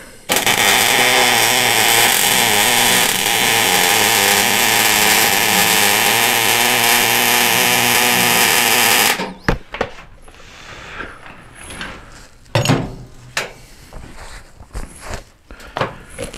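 Welding on the swing arm of a sidecar for a 1999 Harley-Davidson Road King sends out a loud, steady buzzing hiss for about nine seconds. Scattered clanks and handling noises follow in a quieter workshop.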